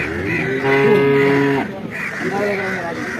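A buffalo calf moos at a livestock market with two drawn-out, loud, nearby calls, the first longer than the second, against faint background noise.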